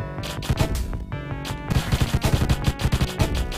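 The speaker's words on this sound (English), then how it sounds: "Okay, so I'm firing more bullets now." Rapid, loud gunfire from the Deathstate video game, dense bursts of repeated shots layered with music and effects, nearly continuous with a brief lull before resuming.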